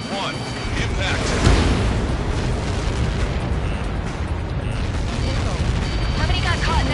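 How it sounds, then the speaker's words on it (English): A huge explosion in Ace Combat 7 roars as a loud, sustained rumbling blast with a sharp peak early on, filling the whole stretch with dense debris-like noise. "How many got caught in that explosion?"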